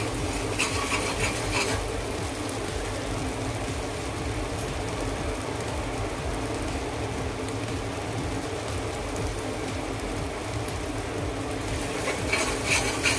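Ingredients sautéing in a pan for a spicy Marathi eggplant dish, a steady close sizzle and stirring rustle that holds evenly throughout with no talk.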